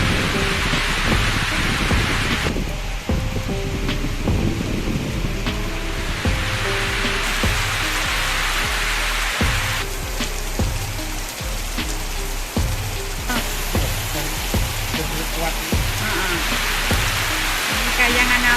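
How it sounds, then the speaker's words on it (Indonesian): Heavy rain pours down steadily and loudly at Kayangan Api in Bojonegoro, a dense continuous wash of drops with thunder-like rumbles in the background, close and unbroken throughout. "Tapi nampaknya ini hujannya makin deras."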